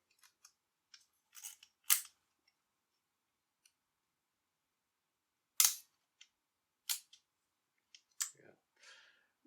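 Olympus Pen EED and Pen S half-frame film cameras fired side by side, giving a scattered series of crisp mechanical shutter clicks and small clacks, a few louder snaps among quieter ticks, close up with no talking.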